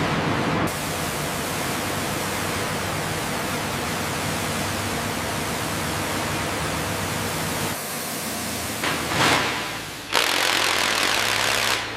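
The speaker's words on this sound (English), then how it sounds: "let's hit it with the high-pressure jets" Powerful high-pressure water jets blasting marine growth off a sunken TBM Avenger wreck, a loud, steady broadband roar that runs almost unbroken, dips briefly near the end, then surges back full.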